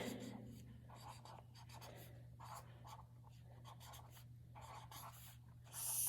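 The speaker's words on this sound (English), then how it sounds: "I'm writing the word I, capitalizing, and then I'm writing love, dancing" Pen scratching on paper while writing out a short sentence by hand, with soft repeated strokes close to the mic against a low background hum.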